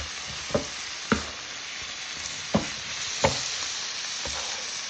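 Chopped cheese filling of meat and cheese frying on a griddle, a constant sizzle broken by four sharp spatula chops at an uneven pace, close and fairly quiet, no talking.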